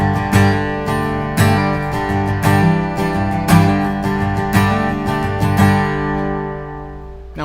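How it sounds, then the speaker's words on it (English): Guitar chords strummed repeatedly with one string muted by the fretting hand, clean rhythmic strikes ringing close and loud, each decaying before the next, with no talking. "You mute it, it sounds great."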